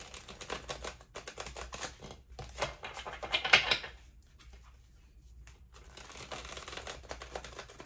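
A deck of tarot cards being shuffled by hand, with bursts of riffling and flicking cards separated by brief pauses, close and fairly loud.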